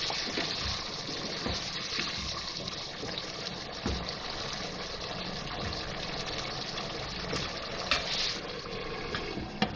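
Water is poured into a beef liver masala cooking in a pan, giving a continuous broadband gushing hiss that runs steadily throughout with small splashy accents and no talk.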